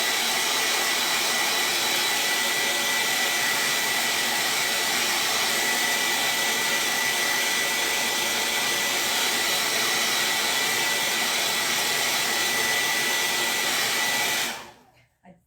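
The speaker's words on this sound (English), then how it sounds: "I'm about to take a blow dryer to it" A blow dryer runs loud and close, a constant high whooshing roar that holds steady for about fourteen seconds before cutting off abruptly at the end.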